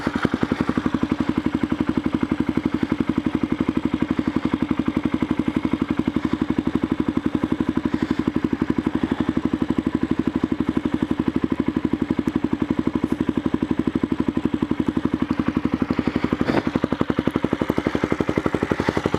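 Aprilia Pegaso motorcycle engine idling steadily after a clutch adjustment, a close, even low rumble with rapid clatter that holds for the whole stretch, with one brief thump near the end and no talk.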